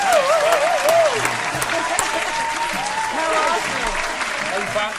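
Steady crowd applause fills the whole stretch, with a whistling tone warbling over it and some voices mixed in.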